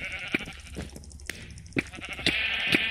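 Sheep bleating in the Minecraft video game, several short sharp bleats repeating close and loud over a busy game background.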